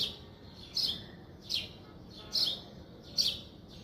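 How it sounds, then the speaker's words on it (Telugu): Four short, bright bird chirps repeat at steady intervals over faint background hiss, no talking. "బర్డ్స్ చూడండి ఎంత బాగా అరుస్తున్నాయో సౌండ్ చేస్తూ"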